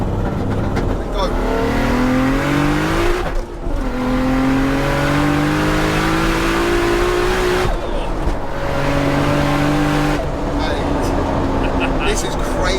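A 1000 hp Toyota Supra does a rolling launch from third gear at full throttle, its engine howling loud and rising through long pulls with brief dips at gear changes, voices talking over it inside the cabin.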